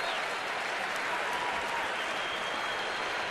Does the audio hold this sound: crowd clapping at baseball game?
yes